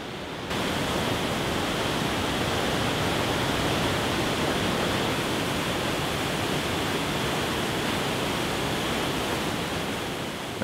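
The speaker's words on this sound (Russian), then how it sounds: "образуя крупнейший в мире лесовый водопад Хукоу" Thunderous roar of the Hukou loess waterfall on the Yellow River, a continuous dense broadband rush of falling water, loud and close, steady throughout with no other sounds.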